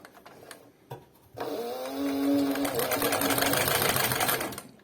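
A heavy-duty Dekor 323 saddlery sewing machine for extra-heavy work starts smoothly and runs into a steady mechanical whir of stitching, after a few faint knocks and handling sounds.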